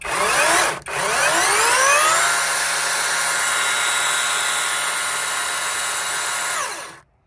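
Battery-powered cordless chainsaw cutting through wood, a steady loud whining motor drone after a brief start and a short dip, running continuously for several seconds before cutting off abruptly.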